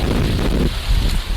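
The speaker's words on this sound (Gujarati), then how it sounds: "પવન એવો છે કે કદાચ મારો અવાજ બહુ ન આવતો હોય" Gusty outdoor wind buffets the microphone in a flowering garden, a brief close roar that dips and swells again.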